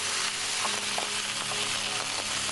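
Boiled spinach stirred into a hot frying pan, giving a loud, steady sizzle with soft, repeated spatula strokes scraping through it.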